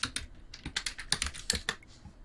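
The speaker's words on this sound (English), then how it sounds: "really good typing" Rapid keyboard typing, a quick uneven run of crisp key clicks close to the microphone, with no voices.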